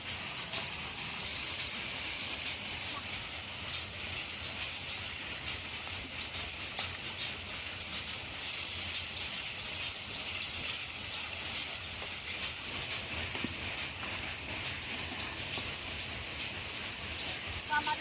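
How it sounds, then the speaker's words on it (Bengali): Pangas fish fry in hot oil, giving a steady, close hiss and sizzle that swells briefly midway and stays constant throughout, with no talking. "কিন্তু মাছগুলো ভাজা হয়েছে"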